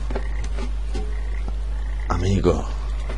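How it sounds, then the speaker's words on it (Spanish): A toad in Papo & Yo lets out several short croaks over a low steady hum, the loudest near the end as a bubbly, rising call. "Un sapo, un sapo. Es un sapo, no una rana."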